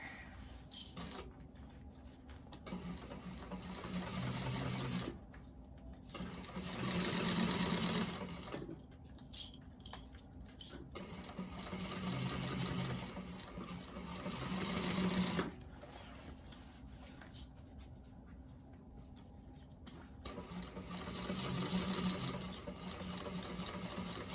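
A sewing machine stitching a bag runs in several close bursts of rapid, whirring needle strokes, pausing between runs for back stitching, with no voices.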